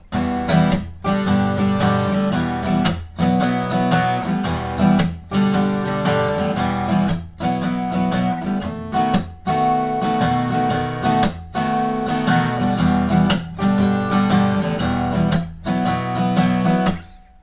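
An acoustic guitar strums the verse chord progression of a song, loud and steady with rhythmic strokes and brief pauses between chord changes, played alone without voice.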